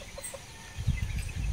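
A hen on a small backyard farm, giving a few soft low clucks close by, brief and fairly quiet against faint outdoor background.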